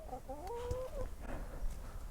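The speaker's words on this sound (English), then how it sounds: "And the rooster doing his thing." A rooster in a backyard chicken pen crows once, a short rising then falling call near the microphone, followed by quiet ambient farmyard noise.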